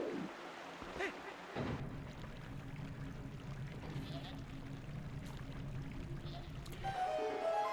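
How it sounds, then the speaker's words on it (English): Water rushing and pouring through a flooded dungeon in Zelda: Twilight Princess, a steady close stream of splashing noise that rises louder near the end, with occasional faint game tones over it. "So now the water is flowing."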